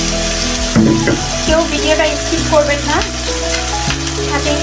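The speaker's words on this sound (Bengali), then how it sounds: "এখন এটাকে ভালো করে নেড়েচেড়ে ভেজে নিব" Bengali poa fish masala with sliced green chillies sizzles loudly in a pan while it is stirred, with scraping strokes cutting through the frying and someone talking over it.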